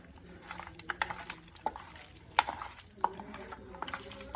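Chicken pieces being hand-mixed with Everest chicken masala, salt and oil for marination, giving wet squelching and slapping sounds in irregular bursts, close but fairly quiet.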